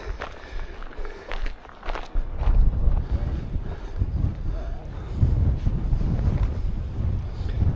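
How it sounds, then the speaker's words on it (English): Strong wind whips across Greenfield Reservoir in the Peak District hills, buffeting the microphone in loud, gusty roars that rise and fall, with footsteps on the path underneath. "Wind's whipping across it."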